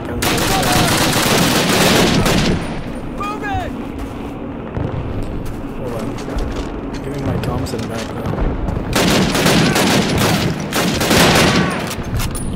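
Gunfire from the 2003 Call of Duty video game, set in US basic training: dense loud bursts of shots at the start and again near the end, with quieter scattered fire between, and a voice talking over it.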